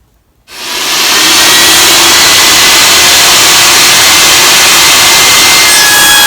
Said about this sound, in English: we got the edges of the boards sawed and ready to do the Kreg joints